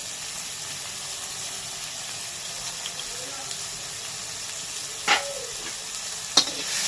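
Tomatoes soften with salt in a hot pan for a vegetarian potato and cauliflower curry, giving a steady close sizzle with two brief sharp clinks of a utensil near the end.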